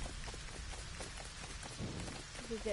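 Heavy rain pours steadily in a thunderstorm in a video game, a dense continuous patter with faint low rumbling underneath.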